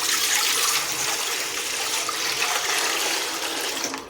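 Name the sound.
water poured into a cooking pot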